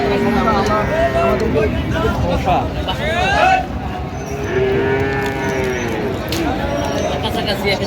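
Sahiwal bulls moo loudly at a Dhaka cattle market, drawn-out calls repeating and overlapping over a busy crowd babble with people talking nearby.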